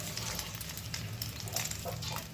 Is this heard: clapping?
no